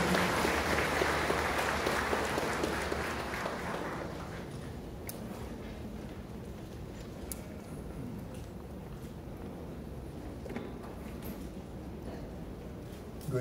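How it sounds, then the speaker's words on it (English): Audience applause at a national peace convention, a broad wash of clapping from a crowd that starts full and gradually fades to a quieter patter over several seconds, with no talking. "Please welcome him with a big round of applause"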